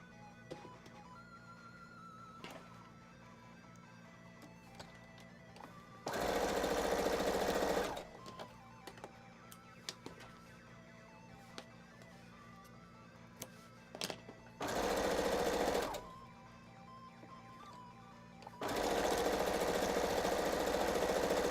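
Sewing machine stitching a king-sized quilt, running in three loud, steady bursts of about two, one and three seconds, separated by quieter stretches of faint room noise and light clicks.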